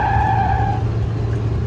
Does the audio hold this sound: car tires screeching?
yes